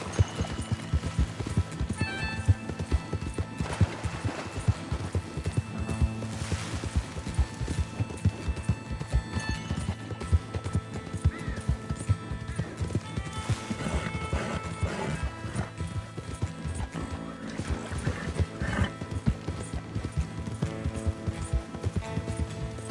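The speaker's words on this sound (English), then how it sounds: "Start neighing, perhaps." In the Red Dead Redemption 2 video game, a horse's hooves clip-clop in a steady continuous rhythm at moderate volume, with occasional neighs and snorts mixed in.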